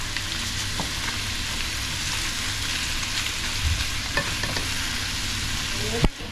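Pad thai noodles sizzle steadily as they are stir-fried in a pan, with a constant hiss close by and occasional scraping taps of a utensil, ending in a sharper clack.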